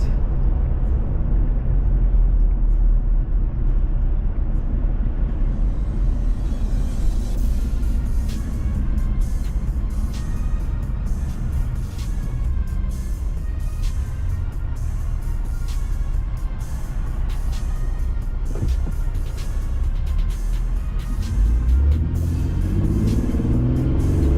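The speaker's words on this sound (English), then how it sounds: "Traffic is picking up a bit." Road traffic heard from inside a car on a drive to work: a constant loud engine and tyre rumble, with other cars swishing past in brief surges. No one talks.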